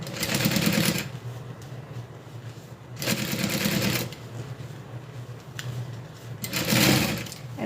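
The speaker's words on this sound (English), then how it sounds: "Just gonna sew in folds." A sewing machine stitches folds into a zip-around wallet in three loud, fast bursts of about a second each, separated by quieter pauses.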